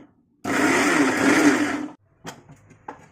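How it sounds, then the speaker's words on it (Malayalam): An electric mixer grinder whirs loudly for about a second and a half, grinding chilies, peppercorns, shallots and turmeric, then stops, followed by a couple of soft clicks and knocks. "ഇതെല്ലാം കൂടെ അരയ്ക്കണം."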